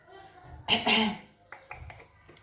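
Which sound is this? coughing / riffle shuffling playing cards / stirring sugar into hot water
coughing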